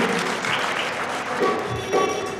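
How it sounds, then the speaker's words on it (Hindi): Spectators at an honoring ceremony in Harda held for a singer's birthday give steady applause for a team, sustained clapping from a crowd at moderate level with a faint murmur underneath. "जोरदार तालियां"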